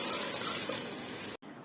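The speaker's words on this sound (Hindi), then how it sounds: "दो मिनट इसको भून के इसके अंदर पानी ऐड कर दूंगी" Water pours steadily into a pot of aloo matar pulao with a continuous close gushing rush that cuts off briefly near the end.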